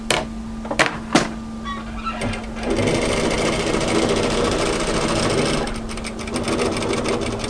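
A sewing machine runs steadily while stitching a kimono kaftan seam, its whirring motor loud and close for several seconds after a few sharp clicks and thumps at the start, with a constant low hum underneath.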